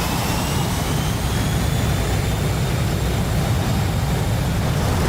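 A P-51 fighter's engine in a flight-simulator game, a steady loud droning roar that holds without pause, dense and continuous, with no talk over it.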